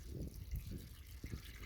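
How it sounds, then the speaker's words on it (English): Homemade Jamaican bag juice for suck suck pours into a plastic bag, an uneven gushing trickle with soft sloshes and splashes, heard close up. "just pouring it right into the bag"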